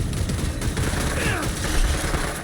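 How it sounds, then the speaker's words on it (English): Rapid SMG fire in the game Borderlands 3, a dense, continuous stream of shots with booming impacts mixed in, loud and close throughout. "So give me a second while I switch to my SMG."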